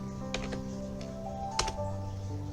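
Two crisp key presses on a computer keyboard while working in a Debian Linux terminal, spaced about a second apart over a steady low electronic hum.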